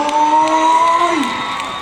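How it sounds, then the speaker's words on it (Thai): A crowd cheers and claps at an outdoor concert at a home event with singers performing, with whoops and shouts over amplified tones, fairly loud and steady. "ปรบมือดังครับ"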